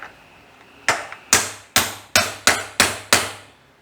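Seven sharp metallic hammer blows strike a socket to drive a clip down on an old 1940 coupe, evenly spaced and loud at close range, each ringing briefly.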